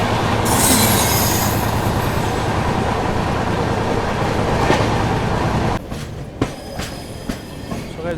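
The 12618 Mangala Lakshadweep Express runs into Agra Cantt with loud rumbling wheels and squealing, then the roar drops off sharply near the end, leaving scattered clacks and knocks.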